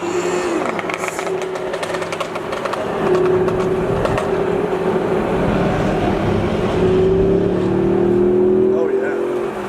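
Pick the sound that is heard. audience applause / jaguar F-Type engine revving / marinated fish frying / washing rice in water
jaguar F-Type engine revving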